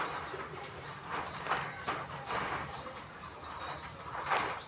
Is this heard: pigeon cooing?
yes